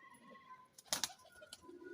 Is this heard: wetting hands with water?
no